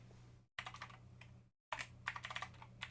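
Keys on a computer keyboard clatter in quick irregular bursts of typing, quiet and close, broken by two brief dropouts into silence.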